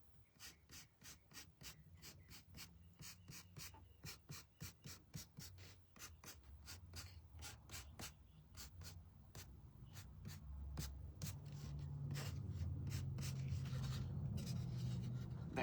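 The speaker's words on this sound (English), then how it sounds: "Just kind of dragging the sandpaper through them just a little bit." Sandpaper dragged across wooden stars to distress them, a long series of rhythmic scratchy rubbing strokes up close that gives way to a steadier, louder continuous rasp near the end.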